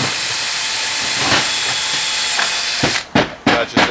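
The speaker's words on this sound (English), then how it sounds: "That's just an 1/8 inch drill bit." A high-pitched drill with an eighth-inch bit whines steadily, then ends in a few short bursts, drilling rivet holes in copper flashing around a chimney on a slate roof.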